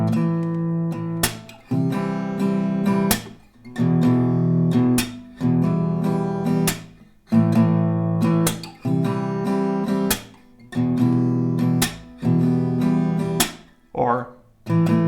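An acoustic guitar strums the chord progression of a pop song at a slowed tempo. Even downstrokes fall in regular groups, each chord ringing out before the next change. It sounds close and clear, with no talking over it.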